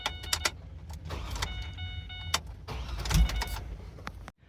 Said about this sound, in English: Now I'm just going to very briefly crank the ignition over.